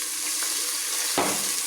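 Garlic and ginger paste with a little water sizzles and fries steadily in a hot pan, a continuous bright hiss with a brief louder crackle near the end, no voices.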